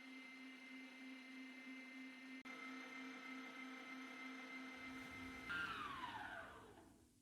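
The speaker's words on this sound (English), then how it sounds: "we have to add our egg whites in our stand mixer and let them go for a minute" A stand mixer whips egg whites for a Sacher torte, giving a steady, close motor whir that holds its pitch. Near the end it surges briefly and then winds down.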